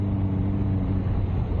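Motorcycle engine running steadily while riding through wet Tallinn streets, a continuous low rumble with strong low harmonics, close and unbroken, no talk.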